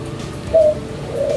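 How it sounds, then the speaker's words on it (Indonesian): A dove or pigeon cooing, a short soft coo heard twice against steady outdoor background noise. "seperti suara burung yang saya dengar ini"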